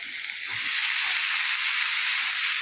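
Pumpkin goes into a hot pan with onion, garlic, masala and coriander powder for a dry vegetable dish, setting off a steady close hissing sizzle that swells and holds.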